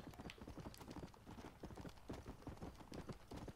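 Horse hooves clip-clop in a steady, rapid galloping rhythm while riding in the video game Red Dead Redemption, close and continuous throughout.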